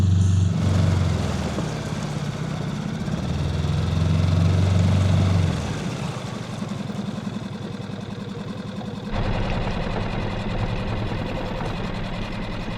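A Suzuki DF6A outboard motor drones steadily up close on a boat, its pitch and throttle shifting a couple of times as it keeps running, with no voices.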